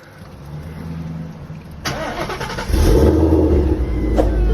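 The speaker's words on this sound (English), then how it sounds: "Time to hear the car for the first time after the cold start." A 2016 car with catless Corsa long-tube headers and a Corsa Extreme exhaust cranks and cold-starts, then settles into a deep, rumbling idle with a loud, throaty exhaust tone, close by.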